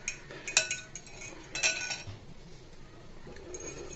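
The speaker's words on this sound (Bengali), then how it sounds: "ভালো করে মিশিয়ে নিতে হবে।" A spoon clinks against a bowl while a milk, sugar and egg mixture is stirred for bread milk toast, a few sharp metallic taps followed by quieter scraping, close and alone.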